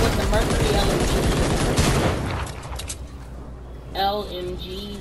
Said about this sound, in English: How powerful would the Mercury LMG be?